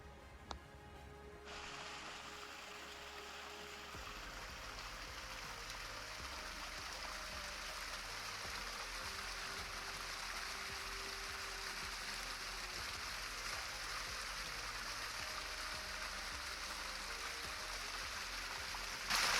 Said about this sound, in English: So that is mountain runoff that is dripping down Shale Rock right here.